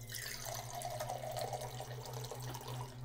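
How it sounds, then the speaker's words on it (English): Water runs into the bottom of a cooking pot with a quiet, steady trickle and splash for a few seconds, heard up close and faint, alongside a low background hum. "I'm going to put some water"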